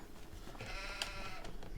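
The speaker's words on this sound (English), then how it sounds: "We start off with some sheep and some lambs." Sheep and lambs bleating on a farm in the Farming Simulator 25 game, a few wavering bleats over a steady low ambient bed, moderately close.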